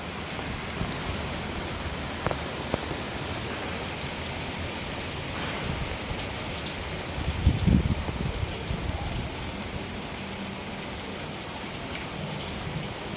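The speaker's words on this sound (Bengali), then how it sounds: "বিভৎস বৃষ্টি হচ্ছে আর ঝড়ও হচ্ছে।" Heavy rain from Cyclone Remal pours in a dense, steady hiss, close and unbroken throughout, with a brief louder gust or splash midway and no voices.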